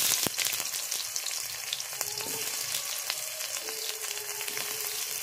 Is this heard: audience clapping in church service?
no